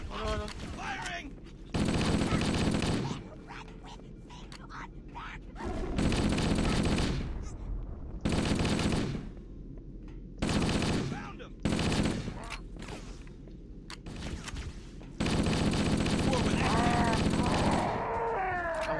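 Sustained automatic gunfire from the Halo: Combat Evolved video game, several loud bursts of a few seconds each separated by short pauses, with game voices and effects between them.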